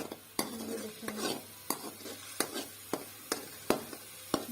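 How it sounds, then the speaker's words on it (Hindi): Garlic ginger paste stirred and browned in a hot pan, a spoon scraping the metal in regular strokes about twice a second over a soft sizzle, close and alone with no talk. "लहसुन अदरक के पेस्ट को हम बहुत अच्छे से ब्राउन करेंगे"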